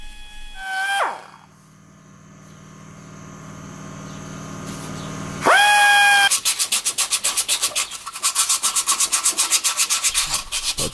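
Power tool shaping hardened cold weld paste on a Maserati part: a high whine spins up and winds down, then starts again and settles into a steady rhythmic grinding rasp, close and loud.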